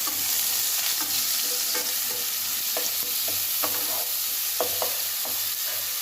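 Chicken and onion fry in a pan with a steady close sizzle, punctuated by scattered clicks and scrapes of stirring.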